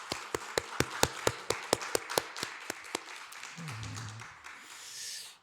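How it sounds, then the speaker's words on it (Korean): A church congregation at a Wednesday worship service claps in praise to God: about fifteen sharp, evenly spaced claps in a quick rhythm that then stop, followed by a brief low voice and a soft rustling fade. "우리의 감사와 영광의 박수 하나님께 돌리도록 하겠습니다"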